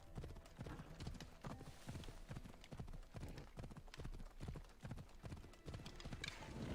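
Horse hooves clip-clopping in Assassin's Creed Odyssey, a brisk, steady run of hoofbeats that carries right through, with faint speech in places.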